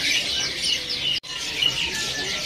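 A caged songbird at a busy bird market chirps in quick, bright repeated notes, fairly close, with a brief dropout midway and no speech over it.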